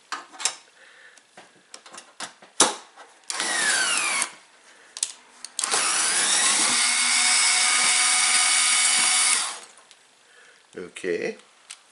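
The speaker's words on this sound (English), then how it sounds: "So now I'm going to use my impact driver to, or my electric screwdriver if you wish," An electric screwdriver releases screws on a Zanker KRH-42EX cooking top: a short whirring burst, then a longer run of about four seconds, loud and close, with scattered clicks and handling knocks around it.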